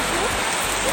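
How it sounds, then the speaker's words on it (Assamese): Heavy rain pours down in a dense, continuous wash of noise, close and loud throughout, with no breaks or individual drops standing out. "আপোনালোকে চাব পাৰে বৰষুণ ইমান বহুত বেছি বৰষুণ দি আছে"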